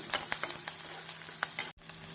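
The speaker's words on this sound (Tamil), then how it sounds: "நாம் வெங்காயம் சேர்த்து நன்றாக வதக்கி" Onion and curry leaves sautéing in oil for a butter beans poriyal, a bright crackling sizzle with light stirring scrapes, close and moderately quiet, cut by a brief dropout near the end.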